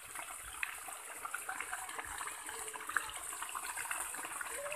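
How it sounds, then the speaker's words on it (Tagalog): Irrigation water flows steadily near a nipa hut at a duck farm, a soft continuous trickling rush that stays fairly faint throughout. "Saan galing yung tubig?"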